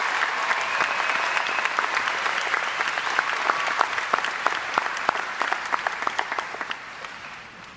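An audience at a high school graduation ceremony claps for the salutatorians. Steady, crisp clapping with scattered sharp individual claps holds for several seconds, then tapers off toward the end.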